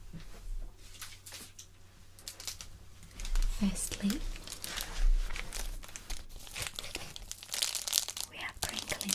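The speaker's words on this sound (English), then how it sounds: "we have crinkling sounds." ASMR crinkling sounds, close crisp crackles and tearing-like rustles arriving in bursts and swells, with a soft voice speaking briefly.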